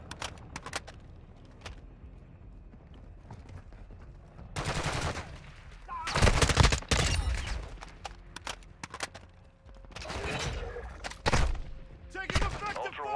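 Video game gunfire in an extraction shooter: scattered bursts of automatic fire and sharp shots arrive in clusters, some loud and close, with quieter gaps and voices in between.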